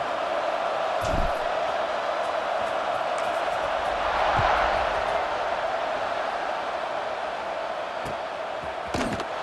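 A stadium crowd in the video game College Football 26 roars steadily before kickoff, a broad, continuous wash of cheering with a brief swell midway and scattered thumps, fairly loud throughout.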